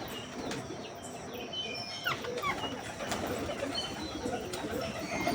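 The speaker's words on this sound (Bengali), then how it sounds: "এই পায়রাটাকে এখন আমি একটু ধরবো, ধরে একটু চেক করবো যে ও মেল না ফিমেল" A wild pigeon beats its wings in short, sharp bursts as it is caught by hand, with faint chirps from other birds nearby.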